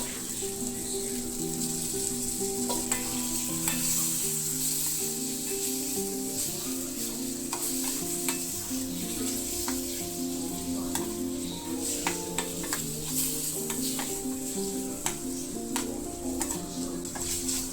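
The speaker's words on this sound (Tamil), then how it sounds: "எண்ணெய் சூடான உடனே ஊற வச்சுருக்க சிக்கனை சேர்த்து நல்லா ஃப்ரை பண்ணி எடுத்துக்கலாம்." Marinated chicken fries in hot oil in a pan for chicken pasta, giving a continuous close sizzle and hiss with occasional sharp pops and stirring clicks, and no one speaking.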